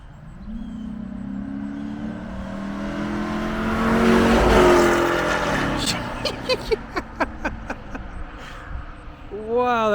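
A Dodge Magnum with a 5.7L Hemi driven hard, its engine swelling to a loud roaring pass with a brief tire-squeal tone, then fading into rumbling, while people talk over it.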